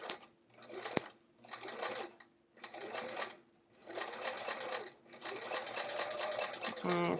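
A sewing machine runs in repeated bursts of top stitching with orange thread around a curved pocket flap, each run lasting about a second or two with short pauses between, close and fairly loud.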